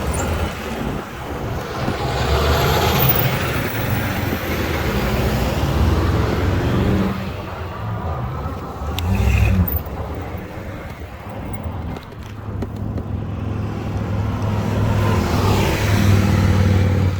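E-bike ridden at full throttle with cruise control on a highway in Ridgecrest, California, with loud steady wind and road roar, passing cars and trucks swelling and fading close by.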